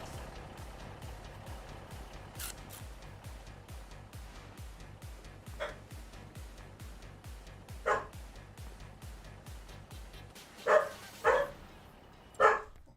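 Dogs barking in Farming Simulator 25 at harvest time, a steady rhythmic mechanical pulse throughout with a few loud, sharp barks near the end.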